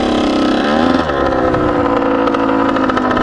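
A Kawasaki KX100 dirt bike engine drones loud and close while riding on trails and sand dunes, a steady high-revving buzz with a brief dip in pitch before it holds again.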